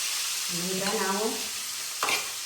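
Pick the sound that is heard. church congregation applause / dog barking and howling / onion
onion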